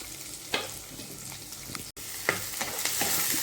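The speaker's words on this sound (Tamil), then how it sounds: "அதை வதக்கிக்கலாம் காடி பதம் வர அளவுக்கு வதக்கி எடுத்துக்கலாம்" Chopped big onion sautéing in hot oil, a close, steady sizzle with a few spoon stirs scraping the pan and one brief dropout, no voices.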